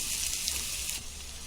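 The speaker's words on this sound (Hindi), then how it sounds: "अभी हम ये लहसुन डालेंगे, उसको भी भूनेंगे" Chopped ginger and garlic frying in a pan, a short, close, hissing sizzle that runs steadily and then eases slightly in level.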